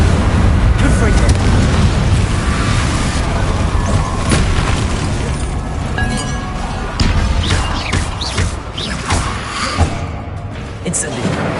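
Spell explosions from a Harry Potter video game, loud repeated booms and crashing blasts stacked densely over a continuous rumbling game soundtrack, with a voice speaking throughout.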